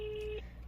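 A phone dials out on a call, one short steady electronic tone held briefly before cutting off, faint and close.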